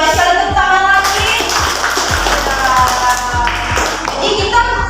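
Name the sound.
class clapping hands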